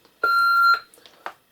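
A Darth Vader voice changer mask helmet gives one sustained electronic tone, steady and clear for about half a second, followed by a few short faint clicks and knocks.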